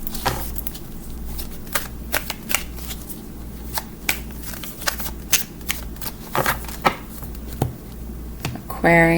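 Tarot cards being shuffled in repeated crisp riffling bursts, sharp clicks spaced irregularly over a steady low hum, with a louder flurry of shuffling at the end; a voice talks faintly underneath.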